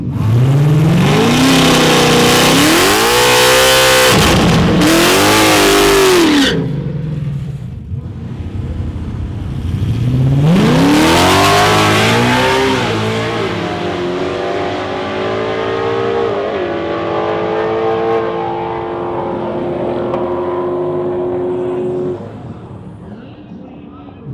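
A Ford drag race car engine roars loudly at Ford Nationals, revving hard through rising gear shifts, cutting out briefly, then surging again before fading as it passes at about 91 mph.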